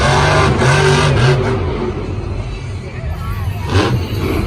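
A monster truck's engine roars and revs in a stadium arena before a two-wheel hit, loud and close with rising and falling pitch, while an announcer's voice talks over it.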